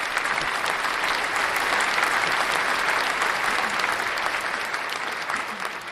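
Steady, full applause sound effect played on a livestream, a dense wash of many hands clapping at even loudness that tapers slightly at the end.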